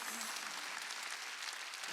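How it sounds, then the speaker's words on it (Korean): A church congregation claps together during a Sunday worship service, a dense, steady wash of applause lasting about two seconds at moderate distance. "박수로 하나님께 영광 드라"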